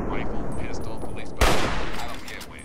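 A single gunshot in the video game Fallout 3 cracks loud and sharp midway through, standing out from a low, continuous game soundscape and fading quickly afterward.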